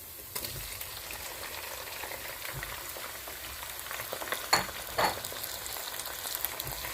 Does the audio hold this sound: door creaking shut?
no